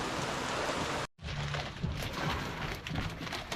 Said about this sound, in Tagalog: Ulan mga katangay.